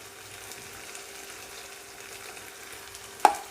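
Chili powder being stirred into a frying brinjal and chana dal curry in a pan, a soft steady sizzle throughout with one sharp utensil knock near the end.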